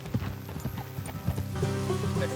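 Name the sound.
horses' hooves clip-clopping in video game Red Dead Redemption 2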